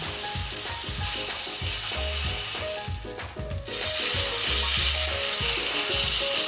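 Watermelon frying in a small amount of oil, a loud, dense sizzle with crackling, continuous and close, briefly dipping then surging back, no speech.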